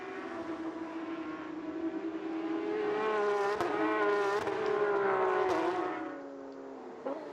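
Porsche Carrera Cup race cars speed toward turn 10 at Road Atlanta, a steady, loud, high engine drone that swells as they close in and pass, then eases off, with no voices.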